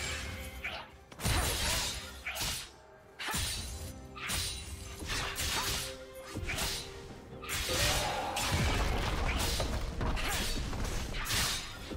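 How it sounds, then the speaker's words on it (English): Turret destroyed in League of Legends, a series of heavy crashing, shattering impacts with whooshes and thuds, loud bursts repeating over several seconds amid game effects, with brief voice in the mix. "Team's turret has been destroyed."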